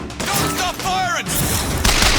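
Rapid gunfire from a shootout in BioShock Infinite, loud overlapping shots filling the clip, with a voice shouting over the start of the volley.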